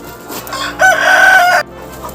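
A rooster crows once, loud and close, a drawn-out cry of about a second over faint background noise.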